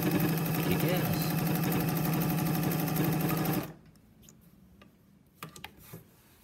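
A vintage 1950s Pfaff 130 home sewing machine runs a zigzag stitch with a steady rapid clatter that stops abruptly partway through, followed by quiet handling clicks and a few soft thumps.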